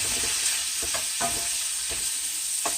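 Flounder and radishes fry in a pan with a steady soft sizzle, punctuated by several brief scraping stirs of a utensil against the pan, close up and without talk.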